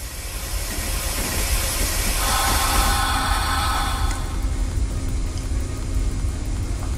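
An SU46 diesel locomotive in the MaSzyna train simulator game rolls along while braking, with a steady loud rumble of wheels on rail and a hissing air-brake release partway through. No voices are heard.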